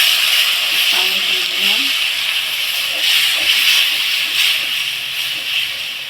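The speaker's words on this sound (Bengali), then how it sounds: "এখন আমি মশলাটা ভালো করে কষিয়ে নেব।" Spice masala with coriander powder and salt cooks down in a hot pan for a liver and meat curry. A loud, steady hiss holds throughout, with a brief faint voice early on.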